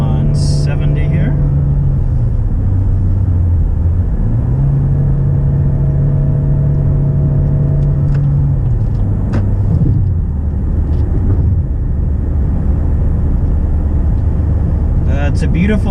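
Steady engine and road rumble inside a car cruising at 70 on a Hawaii highway, with engine pitch dropping and shifting, a low continuous drone throughout.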